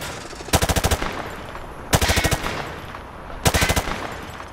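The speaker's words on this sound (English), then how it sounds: "Grab that weapon off the table and fire at the targets behind you." Automatic rifle fire at targets in Call of Duty: Modern Warfare 2 Campaign Remastered, heard as three separate rapid bursts of about six shots each, loud and close with brief pauses between them.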